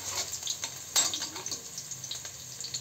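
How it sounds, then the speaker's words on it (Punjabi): Garlic frying in a pan makes a soft, steady sizzle with light stirring scrapes and one brighter clatter near the middle. It is close and moderately quiet, with no voices. "ਲਸਣ ਭੁੰਨਾਂਗੇ ਆਪਾਂ"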